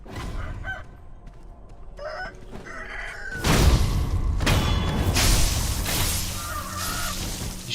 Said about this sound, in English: Why are there chickens up here?